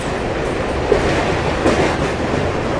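A train on the Bankura–Masagram line rolling across the Damodar river bridge, a loud continuous rumble with rhythmic wheel clatter close by, no voices.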